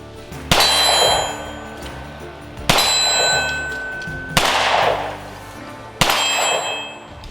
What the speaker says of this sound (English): so we'll give it a round at the steel and see how it does